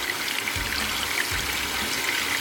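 Water filter system running its automatic rinse cycle, a steady broadband rush of flowing water, loud and continuous for the whole stretch with a few low gurgling surges.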